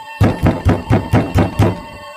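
Six firm knocks land on a door in an even, deliberate rhythm, close and loud, each with a hollow wooden thud and no voices over them.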